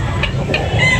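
A rooster clucks in short bursts at a busy Carbon market in Cebu, its calls sitting over steady crowd noise and market bustle.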